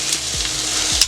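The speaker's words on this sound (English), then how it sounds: "I'm doing some french fried potatoes over here" French fried potatoes sizzle and crackle steadily in a pot of hot oil set on a steel flat top griddle, a close, continuous frying hiss with no talking.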